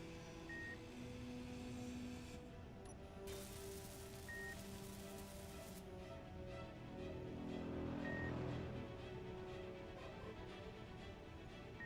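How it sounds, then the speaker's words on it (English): Inside the Space Engineers video game, a cockpit sends out short, faint, evenly spaced single beeps. They sit over a steady low hum and a hiss like rain, and a brief burst of noise comes partway through. "That beep could be coming from a cockpit. Could be coming from a remote control."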